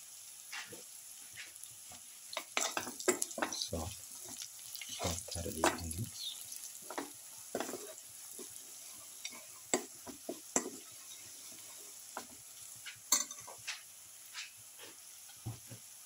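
Spatula stirring garlic, bottle gourd and potato in a pan, with an intermittent scraping and clatter over a soft steady sizzle of frying.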